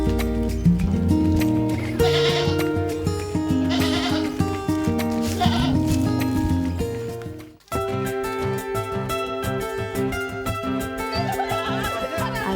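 Saanen dairy goats bleating at a breeding farm in Ciangsana, Jakarta: a loud, dense chorus of overlapping bleats that runs steadily, breaks off briefly, then resumes, with no talking.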